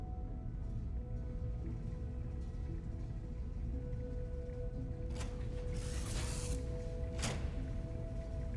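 Mechanical ratcheting and creaking of a wrench tightening bolts in the Starfield video game, a steady hum of machinery underneath with a few sharp metallic clicks and bursts near the end.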